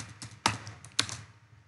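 Someone types code on a computer keyboard, a quiet cluster of close key clicks with two sharper, louder taps about half a second apart, tapering off toward the end, with no talking.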